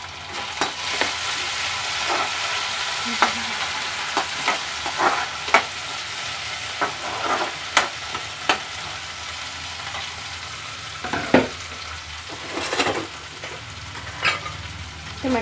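Tomatoes sizzle steadily as they are added to already-fried onions in a pan, with a constant hiss under frequent scraping knocks from stirring, close by and with no speech.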